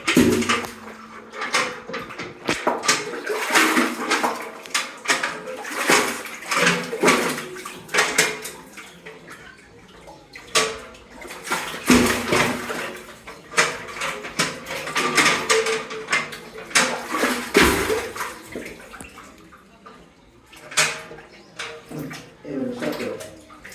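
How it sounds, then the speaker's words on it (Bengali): Metal bucket clanks and knocks repeatedly while water splashes and sloshes, in irregular bursts as it is hauled up from a well. "পানি আমি তুলতেছি কূপ থেকে পানি উপরে তুলছি দেখেন"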